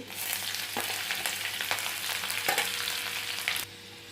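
Curry leaves, garlic and green chilies hit hot oil for upma, giving a loud, close, steady sizzle with a few stirring clicks, then dropping abruptly to a softer fry near the end.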